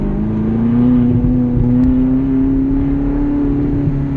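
A Ferrari California's engine at full throttle, heard from inside the car as a loud, steady, droning roar holding an even tone for a few seconds without a break.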